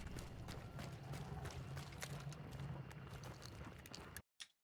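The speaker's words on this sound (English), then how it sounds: "Sounds like footsteps coming from here." Footsteps in the video game Hunt: Showdown, a steady patter of repeated steps over a dense low rumble of game ambience, moderately loud throughout before cutting to near silence at the end.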